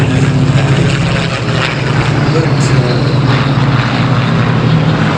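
Supermarine Spitfire, built by Vickers Armstrong, flying at an air show, a loud steady propeller-engine drone that holds level throughout while someone speaks over it.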